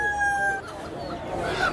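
A rooster crows at a busy animal and bird market in Madinah, one loud, close call over crowd murmur and market bustle.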